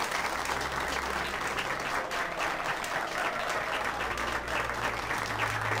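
Applause at a party in the video game Mass Effect 2: a steady, dense crowd clapping that holds for several seconds without a break.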